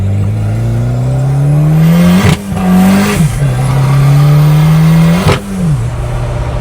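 A loud, close small turbocharged car engine revs hard and climbs in pitch, dropping briefly at two gear shifts before pulling up again.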